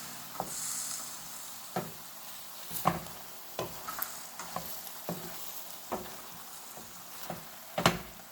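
Japanese eggplant sautéing in a pan: a steady soft sizzle broken by sharp, irregular clinks and scrapes of a utensil stirring every second or so, close and fairly quiet, with no talking.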